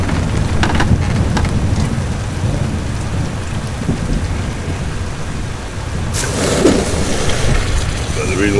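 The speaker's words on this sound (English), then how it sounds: "thunder's loud" A thunderstorm in the video game Kingdom Come: Deliverance 2: steady heavy rain with a low rolling thunder rumble, then a louder crack of thunder near the end, with some faint voice-like sounds mixed in.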